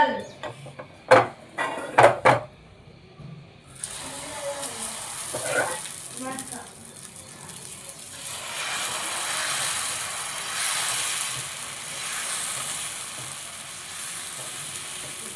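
Millet dosa batter hits a hot pan and sizzles, a steady frying hiss that swells and lasts after a few sharp clanks and a voice at the start.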